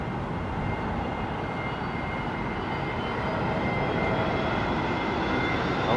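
Airbus airliner engines roar steadily at London Heathrow in stormy weather, a continuous broadband rumble holding loud and even throughout with no voices.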